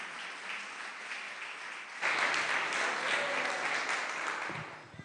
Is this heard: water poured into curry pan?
no